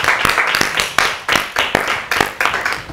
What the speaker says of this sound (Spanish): ¡Un aplauso para el club!